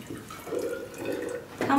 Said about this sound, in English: Yep, still dripping.